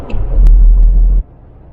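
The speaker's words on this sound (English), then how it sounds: "It's still a whine. I was wondering if it would make a difference to the whine on the back end" A Volvo 240 on the road, a low steady drivetrain rumble with a whine from the rear end, loud and close for about a second before dropping away.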